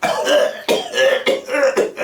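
Four rough, hacking coughs in quick succession, close and loud, each a short raspy burst with throat-clearing quality.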